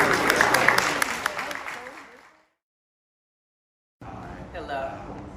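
A live audience at a spoken performance at Tulane claps in a dense, noisy burst that fades out over about two seconds. Silence follows, and then a voice begins speaking.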